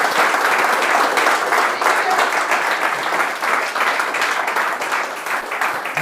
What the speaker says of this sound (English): can we also have a huge applause for the Grow team?